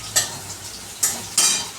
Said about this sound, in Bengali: একটু জাস্ট একটু হালকা তেলের মধ্যে একটু নেড়ে নিলাম